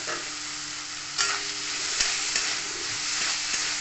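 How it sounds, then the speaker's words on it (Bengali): Grated paneer fries in a pan for paneer bhurji, a constant close sizzle broken by a few soft scraping stirs of a spatula, no talking. "আবার ভালো করে গুঁড়ো করে ভেজে নেবো।"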